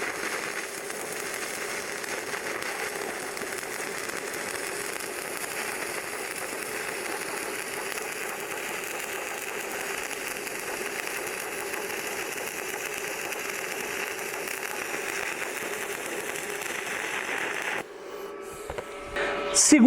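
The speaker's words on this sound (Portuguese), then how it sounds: "volto e continuo a solda" Stick electrode welding on thick steel plate, a steady dense crackle and hiss holding evenly for most of the stretch before cutting off abruptly near the end, with some brief handling noise after.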